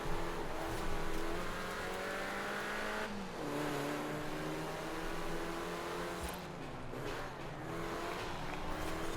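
A car engine roars steadily in Forza Horizon 4, revving up and down with shifting pitch through a racing lap, with brief tire noise and throttle lifts, loud and continuous with no talk.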